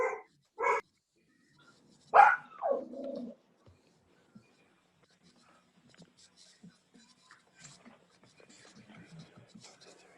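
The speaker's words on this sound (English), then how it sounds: "My dog is freaking out because someone's pulled into my driveway." A dog barks at a car pulling into the driveway: a few loud, close barks at the start, then quiet with only faint scattered background sounds.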